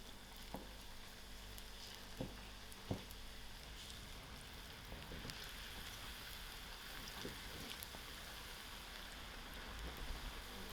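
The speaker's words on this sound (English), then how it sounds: "I will fry out few at a time, so make sure it will get cooked out properly." Onion bhajia batter fries a few pieces at a time in hot oil, giving a continuous dense sizzle with scattered pops and a few louder crackles near the start, steady throughout.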